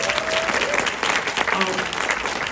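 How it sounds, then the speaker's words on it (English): An audience at a live Q&A with a film director in an AMC cinema breaks into dense, sustained applause, loud and even throughout, with a voice faintly audible under the clapping. "give them a clap"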